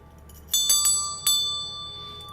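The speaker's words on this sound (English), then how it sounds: "I'm going to ring my bell." A handheld bell struck four times at the start of a session, each ring bright and clear with long ringing decay, close and alone in a quiet room.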